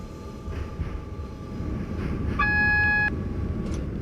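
In the Open BVE train simulator, an AWS caution horn sounds as a steady electronic tone lasting under a second, over the low continuous rumble of the moving train cab.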